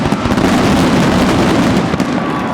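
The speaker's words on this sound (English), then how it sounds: "we have a lot of fireworks shooting off here" Fireworks crackle and pop continuously at a baseball state championship celebration at Silver Cross Field in Joliet, a dense, loud, steady barrage of bursts with no voices in the foreground.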